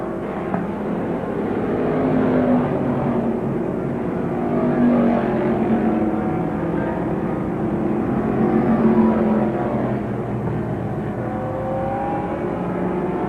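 Late model super stock race cars from the 1986 season roar around the track in a tight pack, engines droning and swelling with a steady, layered whine at a moderate distance.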